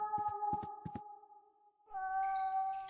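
A cat in the video game The Last Door meows in drawn-out, tonal cries, one long meow broken by a series of sharp clicks, then a short pause and a second meow, clear and moderately close.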